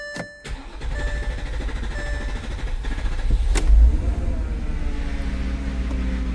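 An Audi or Porsche with a faulty steering lock is started with the key: a brief crank catches and the engine fires up, settling into a loud, steady idle up close with a small swell partway through.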